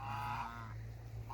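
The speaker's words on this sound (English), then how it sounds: "I got 2 new geese today. This is a pair of white Chinese geese." A pair of white Chinese geese honking close by, with repeated loud nasal calls and no other sounds.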